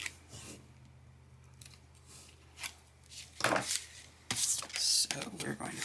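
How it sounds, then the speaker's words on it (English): Sharp cutting and slicing of decorative add-on paper trimmed to card size for a handmade card, a few crisp bursts late in the clip after quieter handling rustles. "I just cut it card size and then sliced"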